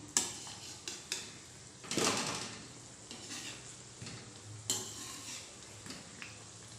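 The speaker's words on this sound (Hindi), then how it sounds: "यहाँ कढ़ाई में कचौड़ी को कुक होते हुए बिल्कुल लो फ्लेम के ऊपर 5 से 6 मिनट हो चुका है। तो चलिए हम इसे पलट देते हैं।" Kachori frying in oil in a kadhai over a low flame is flipped, giving a few distinct clanks and scrapes of a utensil against the pan over a quiet sizzle, with one louder burst near the start.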